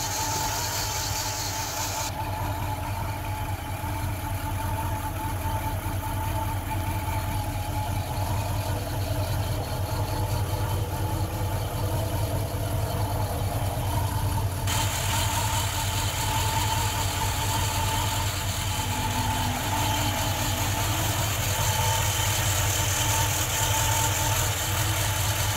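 A 1973 Ford Ranger pickup's engine idles steadily, a close, even low rumble with a constant hum that runs unbroken throughout, no voices.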